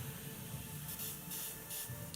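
An airbrush sprays thinned paint onto a goblin rider and squig miniature, giving three or four short, soft hissing bursts over a steady background hum, faint and close with no talking.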